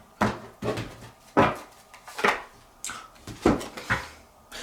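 Several quick riffling, flapping bursts of cards being shuffled, spaced unevenly over a few seconds, close and moderately loud, with no talking.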